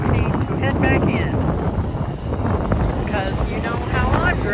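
Strong seaside wind buffets the microphone at the beach in a loud, continuous roaring rush, with faint voices under the gusts.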